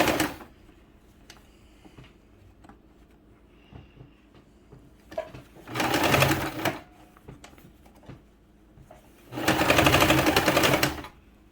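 A sewing machine stitches a puff sleeve onto a T-shirt in two loud, steady runs of about a second and several seconds, with quiet handling noises between them.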